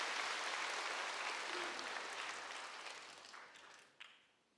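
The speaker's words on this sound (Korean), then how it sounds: "박수 한번 쳐줘야 돼요." Church congregation applauding during a sermon, quiet, dense clapping that gradually fades out, ending with a couple of last isolated claps.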